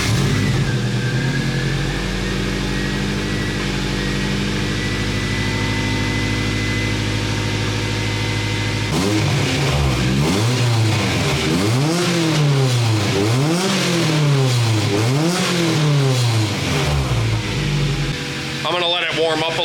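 Car engine with a budget Godsnow full 3-inch exhaust and silencer: a steady loud idle drone, then from about nine seconds a series of repeated rising-and-falling revs, each one climbing sharply and dropping back, close and alone.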